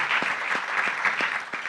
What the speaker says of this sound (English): I want you to give a round of applause to UBA and UBA's leadership